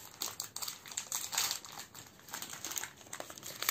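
The plastic wrapper of a small coconut-glazed curd cheese bar crinkles and rustles as it is opened, a soft, close, irregular crackling alone for a few seconds.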